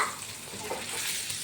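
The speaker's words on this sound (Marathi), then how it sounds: "आणि एवढे मसाले मी तेलात टाकून चांगले तळून घेणार आहे" Eggplant and ground spices frying in hot oil, a dense, close, continuous sizzle with bubbling crackle and no voices.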